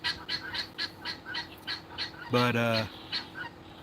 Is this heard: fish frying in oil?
no